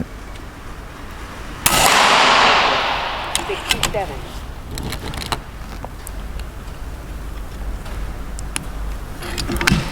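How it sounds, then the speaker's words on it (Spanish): An FX airgun firing slugs through a Puertos transfer port: one sharp, loud crack with a decaying burst, followed by fainter clicks and handling knocks, with people talking in Spanish around it. "Vamos a hacer 3 tiros."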